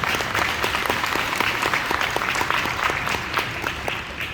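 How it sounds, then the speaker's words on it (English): A morning audience at a motivational session claps together in a lively, sustained round, individual sharp hand claps audible within the dense applause, fading slightly near the end. "give yourselves a big round of applause for everything that was just presented this morning"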